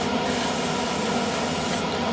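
Steady, loud airbrush hiss of paint being sprayed onto a Tamiya 1/32 Vought F4U-1 Corsair Birdcage scale model, continuous and close throughout.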